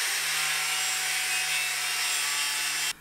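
A power saw cuts through an 80 cm board indoors, a loud, steady, high-pitched whine with a constant low hum running for about three seconds before stopping abruptly.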